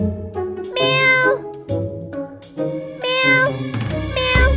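A cat meows repeatedly and loudly up close, several drawn-out tonal cries in a row separated by brief pauses.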